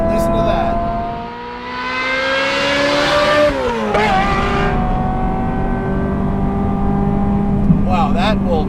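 A Ferrari F355 GTS with a manual gearbox revs hard, its engine note climbing through the gears with a sharp shift-dip and rising again, loud and close from inside the cabin.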